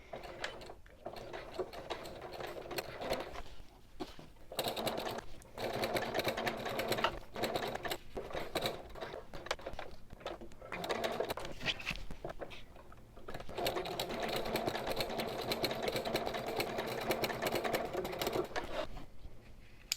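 A sewing machine stitches slowly through waterproof canvas for a tote bag, a continuous rapid patter with brief pauses and speed changes throughout, fairly close and alone.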